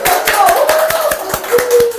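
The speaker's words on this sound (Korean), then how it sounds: "박수!" A seminar audience claps in brisk, evenly spaced claps at close range for about two seconds, under a speaking voice.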